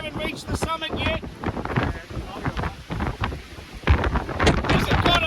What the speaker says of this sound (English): There's got to be 80 kilometre, 90 kilometre winds.